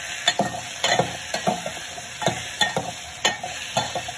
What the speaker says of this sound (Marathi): आता हे 5 मिनिटं आपण स्लो गॅसवर छानपैकी याला परतून घेऊया